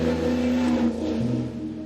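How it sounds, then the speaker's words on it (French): A pre-war Bugatti engine revs close by, a steady throaty drone holding one pitch and then dropping a step as the revs fall, with no one speaking over it. "Bugatti, c'est tellement spécial comme auto, niveau sensation, niveau bruit"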